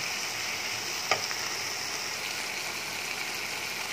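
Spices frying in a pan, a steady soft sizzle throughout with one brief clink of a utensil, no talking.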